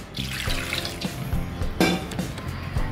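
Water pours into sabudana for washing, a steady splashing stream with a brief louder gush near the middle, close and continuous.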